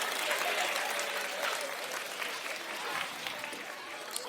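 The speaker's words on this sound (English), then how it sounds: "Give yourselves a clap." An audience at a community talk claps for themselves, a steady, even patter of many hands lasting several seconds at moderate distance, with faint voices underneath.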